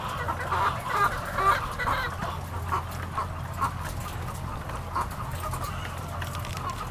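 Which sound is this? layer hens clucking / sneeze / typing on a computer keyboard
layer hens clucking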